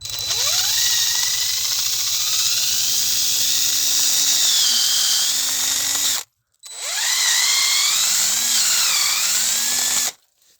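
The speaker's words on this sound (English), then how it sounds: "I'm going to angle it, and then we're going to drill." A loud power drill whines continuously, its pitch rising and falling as it bites into a black walnut tree trunk for tapping, stopping briefly before a second long burst.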